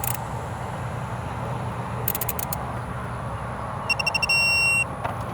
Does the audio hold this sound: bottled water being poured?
no